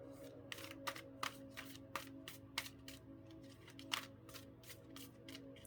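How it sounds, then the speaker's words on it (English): Close, soft shuffling of two decks of cards together, with a series of sharp flicks and riffles at an irregular rhythm over a low background hum. "I can normally shuffle these two decks together quite okay"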